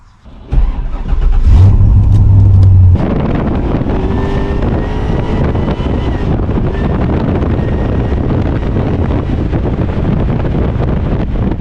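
A turbocharged Holden VL Calais engine accelerating hard, a loud sustained roar close to the microphone with heavy wind buffeting over it, no speech.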